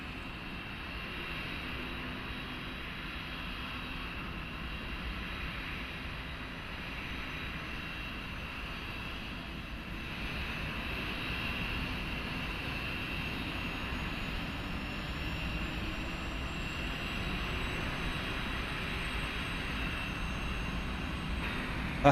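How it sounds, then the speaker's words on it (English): An Airbus A320neo APU starts up in Microsoft Flight Simulator: a steady, moderately faint turbine hum and whine that slowly builds, continuous with no talk. "let's start up the APU"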